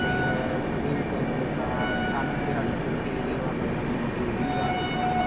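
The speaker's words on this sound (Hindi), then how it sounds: "चलो भाई इधर से निकल चुकी है हमसफ़र एक्सप्रेस, निकल चुकी है पनकी धाम से" The Humsafar Express rolls past with a steady, rumbling rail roar that stays fairly even for several seconds. Someone speaks faintly beneath the noise.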